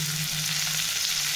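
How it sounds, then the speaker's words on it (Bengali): Chopped onion frying in a pan for a home-cooked dish, a steady close sizzle with a constant low hum underneath, no talking. "এবারে আমি পেঁয়াজটা দিয়ে দেবো"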